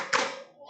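A single sharp clap from schoolchildren doing a rhythmic clapping chant in a classroom economics lesson, one quick close hand strike ringing out briefly.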